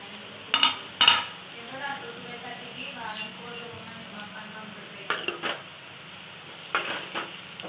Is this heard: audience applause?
no